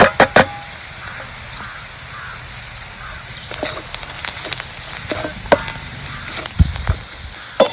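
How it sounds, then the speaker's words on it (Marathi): Homemade onion-garlic masala with turmeric and salt sautéed in a pan for dry bean bhaji, giving a steady sizzle under scattered stirring scrapes and a few sharp taps, close by. "चांगलं मसाला ह्याच्यात आपण परतून घेतलेला आहे."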